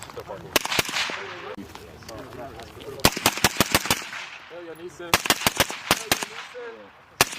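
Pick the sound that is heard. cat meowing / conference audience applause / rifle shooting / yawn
rifle shooting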